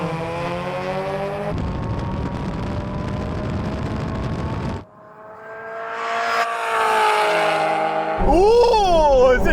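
Two supercharged Mazda Roadsters, an NC and an NB, launch in a drag race: loud engines rev and roar, drop off abruptly, then build again as the cars accelerate, with a high rising whine near the end.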